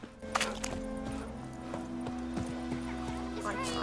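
A horse in The Witcher 3 video game gives a whinny and several clip-clopping hoof steps over a low, sustained musical background, fairly close and moderately loud.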